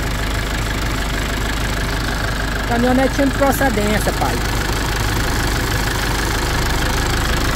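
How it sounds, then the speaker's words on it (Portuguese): A 2011 Chevrolet S10 Executive pickup with a 2.8 MWM diesel idles nearby in a steady low rumble, while someone speaks briefly over it. "Olha aí o barulho do motor da nave."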